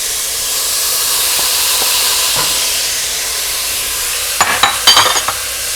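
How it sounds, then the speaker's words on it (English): Black beans tipped into a pot of vegan lentil tortilla soup with corn already in, then stirred, a steady simmering hiss under a few soft clinks and a brief cluster of louder scraping and splashing near the end. "Now add in your black beans."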